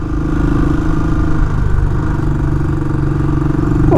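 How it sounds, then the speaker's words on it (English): A Royal Enfield Classic 500 motorcycle engine drones steadily under load in third gear, a low mid-pitched hum with some clatter, holding constant throttle as it climbs a mountain road. "look it's pulling no problem third gear just pulling up this hill"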